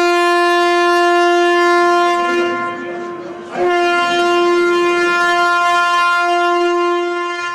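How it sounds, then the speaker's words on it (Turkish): A humanitarian aid train leaving Ankara for Afghanistan with 750 tons of supplies sounds a long, loud, steady horn blast, briefly dipping midway before resuming, with no voices heard. "Afganistan'a 750 ton malzeme taşıyan insani yardım treni Ankara'dan yola çıktı"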